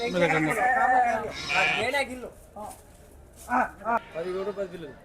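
Several sheep bleat close by in quavering calls at the weekly livestock market in Medak, mixed with chatter from people nearby and a few short bleats toward the end.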